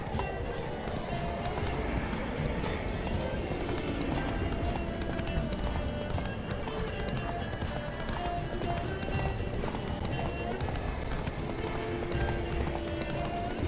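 Roach, Geralt's horse in The Witcher 3, gallops at a steady run, hooves drumming continuously under busy game ambience and occasional voices throughout.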